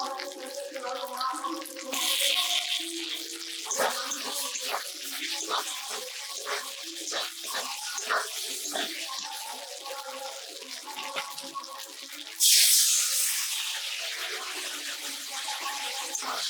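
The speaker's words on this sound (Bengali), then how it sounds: "জল দিয়ে মশলাটা বেছে নিচ্ছি" Running water pours and splashes close by as spices are washed in a kitchen, with clinking and rattling under the flow and a louder gush near the end.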